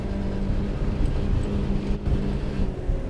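A steady, droning outboard engine roar from a Yamaha F115 four-stroke on a Quintrex 530 boat under way on water, rumbling continuously with slight fluctuations in intensity as revs vary, close and loud throughout.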